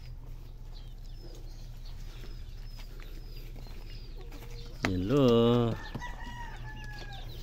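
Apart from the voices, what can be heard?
Texas import chickens on a farm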